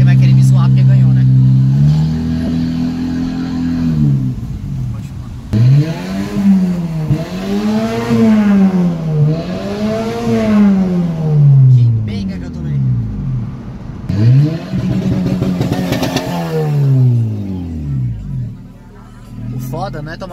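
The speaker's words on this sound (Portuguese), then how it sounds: "Câmbiozinho do Polo com motorzinho turbo." A turbocharged Volkswagen Polo accelerates hard in a street race, its engine loud and close as it climbs through the revs in repeated rising sweeps between gear changes, with crowd chatter underneath.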